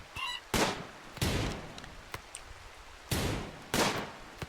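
Gunfire in the video game RimWorld aimed at a chicken: four loud, sharp shots at irregular intervals, with fainter clicks and ticks between them and no talking.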